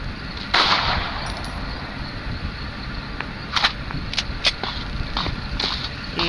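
Gunfire sounds in the first-person shooter game Strike Ops: scattered sharp shots, some in quick pairs, crack over a constant dense background of game noise at moderate loudness.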